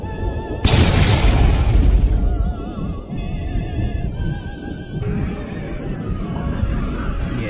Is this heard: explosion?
yes